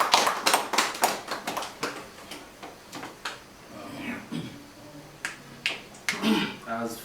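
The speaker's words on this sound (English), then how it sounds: "Can we just clap hands for this moment" Scattered hand claps from a small family gathering at a Sacred Table event, sharp separate slaps in an irregular rhythm that thin out and pick up again, close by, with a faint murmur of voices.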